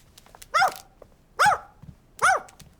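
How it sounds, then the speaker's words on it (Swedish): A cartoon dog from a children's TV show barks three times, each bark short, loud and evenly spaced, with quiet pauses between. "Om det blir mer vovande så kommer grannfrun och ringer på."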